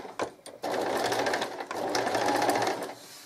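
A sewing machine stitches a fabric seam at close range, a steady whirring drone running for a few seconds after a couple of brief starting clicks.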